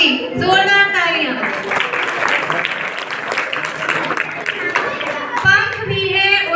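Enthusiastic audience applause at a Republic Day performance: a dense, sustained burst of clapping lasting several seconds, with a speaking voice just before and after it.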